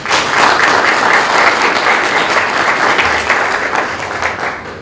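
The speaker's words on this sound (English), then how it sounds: "we need to give our workplace partners a round of applause" An audience at a certificate handout ceremony for an IT graduate program applauds its workplace partners, with steady, dense clapping held at full strength for about four seconds before easing off slightly at the end.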